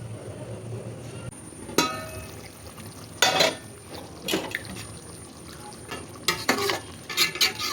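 Chicken karahi cooks in a pan, giving a low sizzle. Scattered clinks and scrapes of a utensil stirring against the pan come in irregular bursts.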